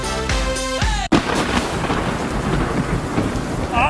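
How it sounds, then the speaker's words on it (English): Hurricane Arthur storm with heavy sheets of rain and gusting wind roaring loudly and continuously, after a brief musical tone cuts off at the start. "we're just dealing with these sheets of rain and winds that are howling 50, 60 miles per hour"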